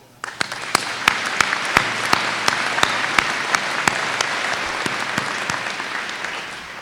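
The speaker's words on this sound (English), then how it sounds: "I ask that we bestow a round of applause for them." A community college commencement audience applauds, with a dense wash of clapping and distinct sharp individual claps at a sustained, moderately loud level.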